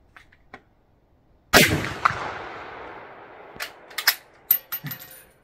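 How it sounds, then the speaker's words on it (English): A single loud gunshot from a .30-06 Winchester XPR bolt-action rifle at an outdoor shooting range, a sharp crack with a long fading echo, followed by a few faint metallic clicks and clanks of handling. "I'm gonna shoot one more."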